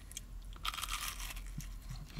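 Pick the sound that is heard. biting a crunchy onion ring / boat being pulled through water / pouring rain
biting a crunchy onion ring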